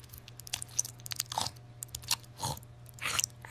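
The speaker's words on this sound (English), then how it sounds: "Is that also him eating chips in the microphone like I'm known to do?" Crunchy chips chewed right up against a microphone, with loud, close crackling bites and crunches coming in bursts over a low steady hum.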